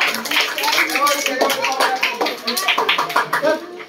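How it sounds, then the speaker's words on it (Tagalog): Children at a school recognition event clap loudly together, a dense run of fast claps filling the whole moment, with voices mixed into the crowd noise. "isang palakpak na malakas, mga bata!"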